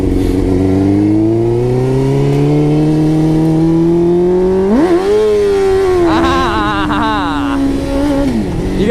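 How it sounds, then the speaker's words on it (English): A Suzuki GSX-R 600 on a cold rear tire: the engine revs steadily higher, then the clutch pops with a sudden surge into a short, scrabbling burnout as the rear slides, loud and close. "I popped the clutch to do a wheelie, and it just little burnout, got a little sideways in the back"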